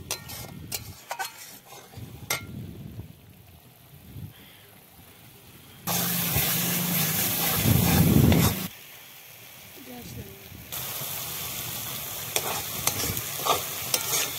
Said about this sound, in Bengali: দেখো আমার মশলাটা প্রায় কষানো হয়ে গেছে, যে তেল ছেড়ে দিয়েছে।